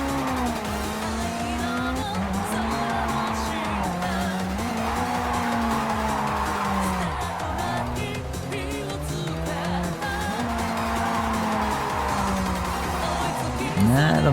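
A car drifting in JDM: Japanese Drift Master, its engine droning loud and continuous while tires squeal in long sliding arcs that rise and fall throughout.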